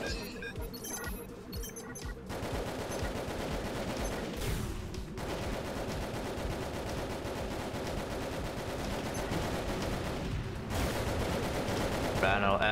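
Rapid mech gunfire from the video game Hammer rattles continuously and loud for most of the stretch, with brief pauses, dense game sound throughout.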